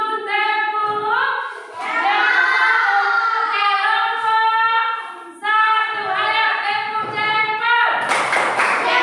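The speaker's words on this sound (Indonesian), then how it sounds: "Kasih dulu tepuk" A class joins in a rhythmic group clap, with voices chanting and singing along over the claps, loud and close, ending in a sharp burst of clapping.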